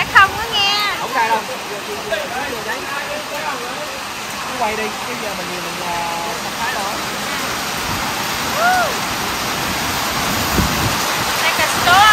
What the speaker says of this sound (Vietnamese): Mưa hơi bị ồn nha các bạn